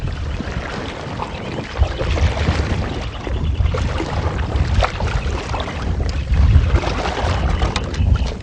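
Kayak paddle working a sculling draw stroke, sweeping back and forth to pull the boat sideways toward another kayaker, with soft continuous splashing and swishing under steady wind noise on open water.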